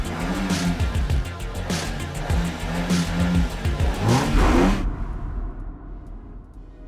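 Racing car engine in the Assetto Corsa driving simulator revving hard through rising and falling gear pulls with a brief tire squeal, loud and close, cutting off abruptly near the end to a faint hiss.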